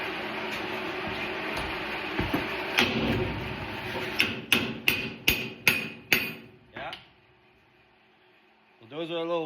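Six or so sharp metallic hammer taps in quick succession on brake wedges during a brake inspection, over background rumble and voices, then a brief quiet before a rising mechanical noise.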